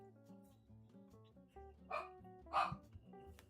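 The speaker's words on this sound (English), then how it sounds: "Don't bark at it." A dog barks twice in sharp, fairly close bursts over a low murmur of background sound, with no talking.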